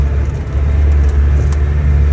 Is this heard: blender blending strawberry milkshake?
no